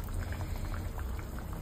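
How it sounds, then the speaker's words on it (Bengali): Singhi fish curry boiling in a pot, with a soft, continuous bubbling close by and no talk. "আর টক বগিয়ে ফুটছে ঝোলটা"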